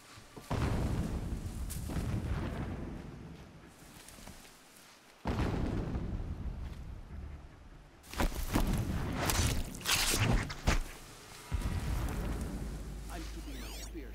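Heavy explosions boom one after another in Horizon Zero Dawn, loud, deep blasts with rumbling tails, a few seconds apart.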